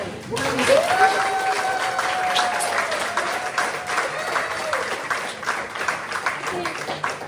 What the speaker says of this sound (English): we just give a huge round of applause for this woman